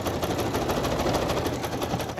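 A sewing machine stitching around a fabric piece for a boho journal cover, a fast, even run of needle strokes, close and steady for a couple of seconds.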